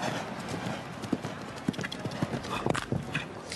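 Hooves of a fractious show jumping horse clip-clop across the arena at a Nations' Cup event in Calgary, a steady uneven patter of thuds under a commentator's voice.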